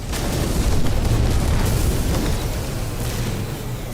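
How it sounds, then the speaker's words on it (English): Cannon fire and explosions in a space combat video game, a loud continuous rumbling boom with dense low-end roar and bursts layered throughout, sustained without pause. "But the gun, I think this cannon is very effective."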